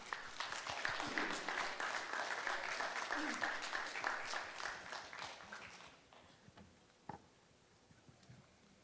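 Audience applause at a maritime industry conference in Korea, a steady wash of many hands clapping that fills the hall for about six seconds, then fades out, leaving a lone faint tap afterward.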